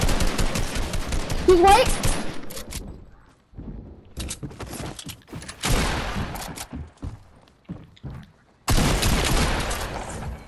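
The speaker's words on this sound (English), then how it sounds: "I headshot the other one with the flintknock" Flintknock shots in a video game: sharp gunshot bursts at the start and again near the end, with scattered thuds and short hits between, under players' talk.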